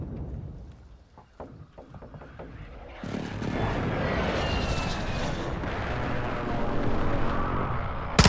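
An aircraft making a precision airstrike in Modern Warfare II. After scattered thuds, a loud, broad roar swells in abruptly and holds steady until the end, where a sharp burst hits.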